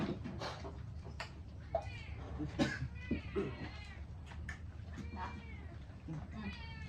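A cat meows repeatedly, rising and falling cries heard close by while people talk around it.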